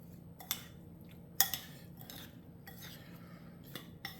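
Utensils clink and scrape lightly against a bowl while seasoned food, dressed with salt and pepper, is mixed; a few sharp taps stand out over a quiet, soft stirring background, with no talking.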